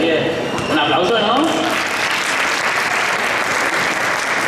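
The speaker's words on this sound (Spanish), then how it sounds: "Un aplauso, ¿no?" Loud, dense applause from a school audience at a football club's back-to-school presentation, rising quickly and holding steady throughout, with some voices mixed into the opening moments.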